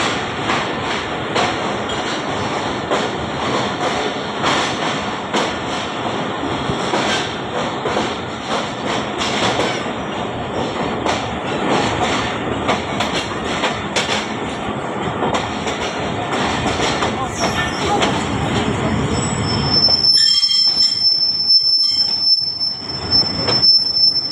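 The Jaffar Express passenger train pulling into Rawalpindi station, its wheels squealing loudly and continuously with rumbling and clanking carriages, ending in a sustained high metallic screech as it slows.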